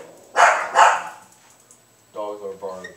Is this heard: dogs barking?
yes